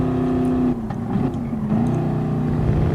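Race car engine in Gran Turismo Sport, racing on the Autodrome Lago circuit, a steady loud engine drone with a pitch shift partway through as the car changes speed.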